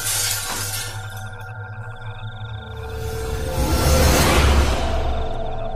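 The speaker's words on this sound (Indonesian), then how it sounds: "tiba-tiba semua dihentikan oleh suara kaca yang pecah" Glass shattering in a dramatized scene, a sharp crash followed by a long scattering of debris and a swelling whoosh, loud and close with an eerie tonal drone underneath.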